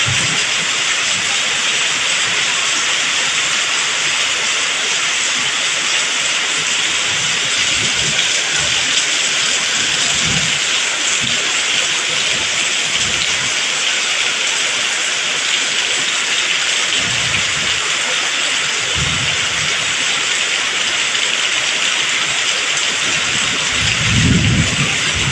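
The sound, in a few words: rain from a tropical storm in Thailand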